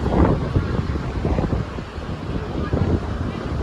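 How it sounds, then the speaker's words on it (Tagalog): Strong wind buffets the microphone in a steady, heavy rumble, with gusts swelling and easing throughout, outdoors by the sea. "Lakas ang hangin."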